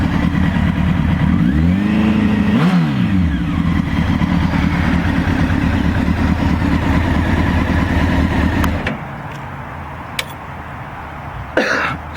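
A 1999 Honda CBR 900RR motorcycle engine idles loudly and close up, rising into two quick revs with a Doppler-like swoop before cutting off; a brief throat clear follows in the quieter tail.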